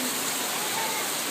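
Rain pours down in a dense, even hiss during a small child's first outdoor rain bath, steady and close with no distinct drops standing out.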